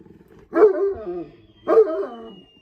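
Two loud, deep dog barks about a second apart, close by, with quiet in between.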